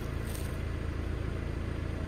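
Diesel engine of a John Deere 310D backhoe idles steadily close by, a continuous low rumble with a fast even pulse and no talk over it.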